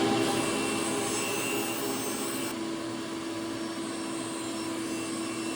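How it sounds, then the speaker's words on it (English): Table saw trims a kitchen cabinet, a steady, loud, whining spin of the blade that holds even for several seconds and stops abruptly, with no talk. "I'm gonna need to put it on the table saw and trim off 3/4 of an inch"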